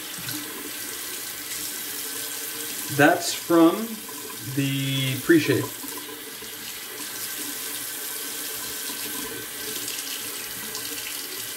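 A tap runs in short bursts as gunk is rinsed off a safety razor's blade, the water splashing close by in a few brief pulses under a short spoken remark.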